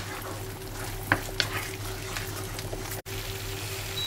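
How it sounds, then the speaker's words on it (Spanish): Carbonara sauce with reducing cream stirred in a pan, a soft sizzle and scraping spoon strokes with a couple of brief knocks, a steady low hum underneath and a short dropout near the end. "Removemos bien."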